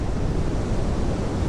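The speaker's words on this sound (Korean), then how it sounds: "울창한 송림, 기암괴석을 휘도는 맑은 물소리" Clear water rushing around rocky boulders beside Muryangsa temple in Buyeo, amid a dense pine forest: a continuous, loud, even hiss and gurgle with no voices.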